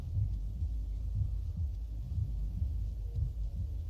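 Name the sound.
heartbeat sound effect at end of music video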